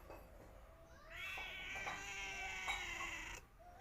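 A cat meows in a drawn-out, complaining wail, rising and wavering for a few seconds, close and clear against a quiet room with no talking.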